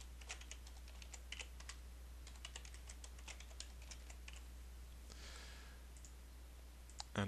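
Someone types a password on a computer keyboard, a faint, quick run of light key clicks in short bursts over a quiet, low hum.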